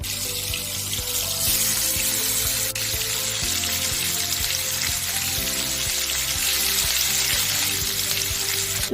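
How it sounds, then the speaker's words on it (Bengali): Steady, dense sizzling and crackling of tengra fish frying in hot oil in a wok, close and continuous, with occasional bubbling pops and no talking. "তেলটা গরম হলে আমি মাছগুলো আস্তে আস্তে ছেড়ে দেবো।"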